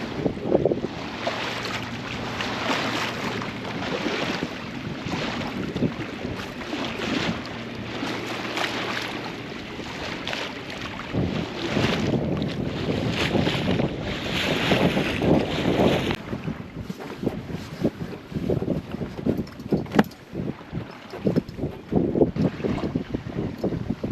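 A sailboat making about 5.4 knots under sail, with steady broadband wind rushing across the microphone and water hissing and slapping along the hull, continuous and fairly loud, with gustier bursts toward the end.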